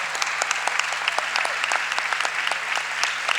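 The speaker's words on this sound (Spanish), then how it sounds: "Quiero un aplauso para Ana" Steady applause from an audience at a provincial mental health conference held at a university, dense clapping throughout with a faint low hum underneath and no talk.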